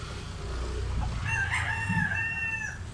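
A rooster of Hatch bloodline, medium-sized with black legs, crows once in a long drawn-out call close by, over a steady low background hum.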